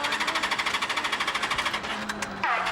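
A flooded motorbike engine at a 24-hour race in France struggles to restart, sputtering with a fast, uneven rhythmic chug close by, then faltering near the end.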